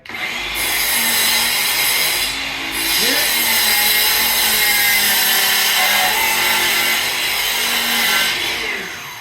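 A DEWALT DCS361B 20V cordless sliding miter saw cuts through exterior window trim wood, a loud sustained whine that dips slightly as the blade bogs down mid-cut, then spins down near the end.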